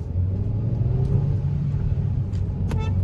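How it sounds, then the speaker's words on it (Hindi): A 2023 Hyundai Exter with a 1.2 litre petrol engine, driven in manual mode, gives a steady low engine rumble from inside the cabin as it accelerates, with no speech. "थोड़ी पिकअप वगैरह देखते हैं गाड़ी की।"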